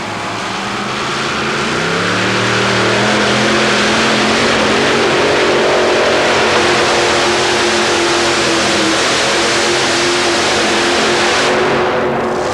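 Modified tractor-pull engines, about 1,700 horsepower apiece, roar continuously at full throttle indoors at the Omni in Atlanta, 1990, a dense, loud, sustained mechanical drone with rising pitch early on, no voices.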